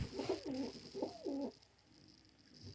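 Lakha and Badshah cross-bred pigeons give two soft, close coos, one after another, followed by a quiet pause.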